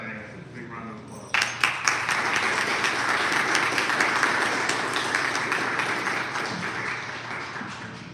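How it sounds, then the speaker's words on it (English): A live audience at the Syracuse Actors Studio bursts into applause for Asa, starting abruptly after a moment of talk, with dense clapping that holds steady and slowly tapers off. "A big round of applause."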